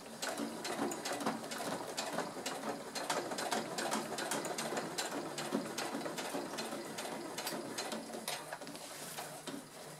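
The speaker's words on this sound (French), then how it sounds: "Et je fais ma couture tout le long." Household sewing machine running steadily along a long seam on fabric while making a cloth makeup pouch, a continuous fast rattling whir at even speed for the whole stretch, close and alone without talk.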